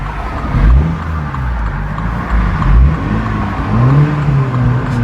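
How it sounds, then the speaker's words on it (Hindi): A Mini Cooper's exhaust rumbles from inside the moving car on a road trip, deep throaty swells rising and falling as the throttle changes, loud and close with no talking. "गाड़ी की एग्जॉस्ट की भी आवाज़ आपको सुना दूं कि कितनी अच्छी है।"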